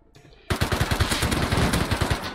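Automatic fire from an AK rifle in the survival video game Rust: after a brief quiet lead-in, a loud, close, continuous burst of rapid shots that holds to the end.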